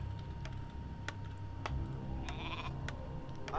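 Sheep bleat in the real-time strategy game Warcraft III, short bleats over a soft ticking, clicking game backdrop with a faint steady hum, no talking.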